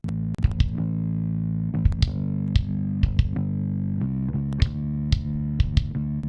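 Bass guitar and kick drum in a phase-rotated mix, with a heavy sustained distorted bass line and sharp kick and cymbal hits landing at irregular intervals.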